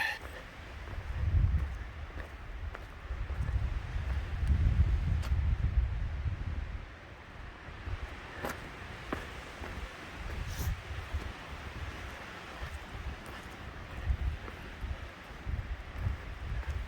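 Steady wind gusts buffet the microphone on a mountain trail, low and rumbling, stronger at first then easing into a softer, continuous blow.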